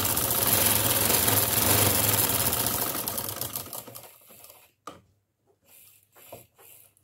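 A sewing machine stitches elastic into trousers, running at a steady fast hum for about four seconds before slowing and stopping, followed by a few short bursts of stitching.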